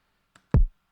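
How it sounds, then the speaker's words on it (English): A single deep kick drum hit with a booming low-end tail, preceded by a faint short tick, then silence. "a lot of producers are using kicks like that sound like this"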